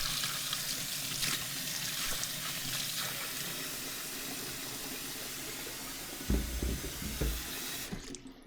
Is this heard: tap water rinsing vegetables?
yes